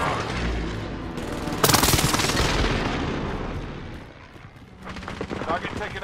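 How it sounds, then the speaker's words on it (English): A close air support strike in Call of Duty: Modern Warfare, a loud roaring barrage of explosions and rolling gunfire that swells and then fades under radio-style voice chatter. "I need close air support on this target."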